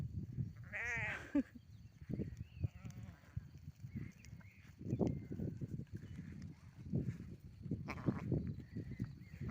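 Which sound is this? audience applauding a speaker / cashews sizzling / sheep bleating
sheep bleating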